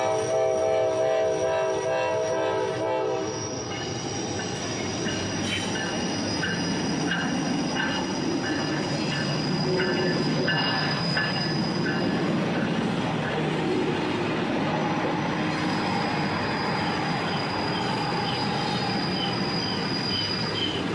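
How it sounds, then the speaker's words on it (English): Two trains pass each other at close range, cars rumbling and clattering steadily, with a high squeal of wheels on rails running throughout; no voices. "When two trains pass each other on the railroad, it's called a meet."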